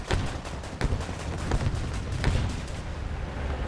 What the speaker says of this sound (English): That's him shooting me in the ass.